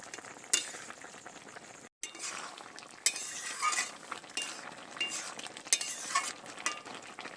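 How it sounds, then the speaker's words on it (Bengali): Mixed winter vegetables cooking in a pan with potatoes are stirred with a utensil, giving a soft simmering sizzle broken by repeated scrapes and clinks against the pan, with one brief silent gap. "সবজিটা এবারে নেড়ে চেড়ে বেশ সুন্দর করে রান্নাটা করে নেব"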